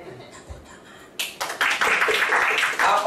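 A church congregation breaks into applause after a quiet moment, a burst of many hands clapping that starts suddenly and stays loud and dense to the end.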